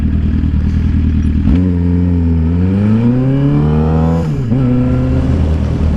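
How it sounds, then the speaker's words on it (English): A Maserati passing nearby, its engine loud and revving up through a rising then falling pitch, with a droning roar throughout. "Maserati."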